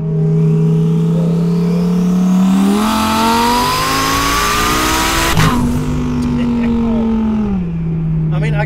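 A twin-turbo Audi R8 accelerates hard in third gear, its engine note climbing steadily in pitch, briefly shifting, then pulling on again. The roar is loud and close, heard from inside the car with some voices faintly underneath.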